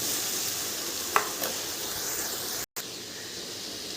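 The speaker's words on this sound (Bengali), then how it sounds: "এখানে দিয়ে দেবো পেঁয়াজ এবং লঙ্কা পেস্ট করে রাখা।" Chicken pieces fry in a wok with onion and chilli paste, giving a steady hiss of sizzling oil broken by a couple of brief stirring clinks and a momentary dropout.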